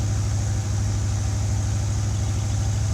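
A 1984 Corvette C4 V8, one that smokes when cold, idles steadily and evenly up close, with a deep, constant low rumble and no voices.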